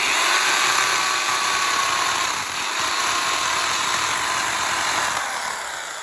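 A close, loud electric pole saw, model MPS750S-2, runs with a steady high whine as it test-cuts a tree branch, the pitch dipping slightly midway.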